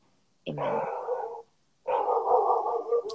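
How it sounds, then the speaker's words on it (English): A pet dog barks twice indoors during rosary prayers, each a short gruff bark with a growly tail, heard close and fairly loud, with a spoken word just before. "Yep, that's my dog."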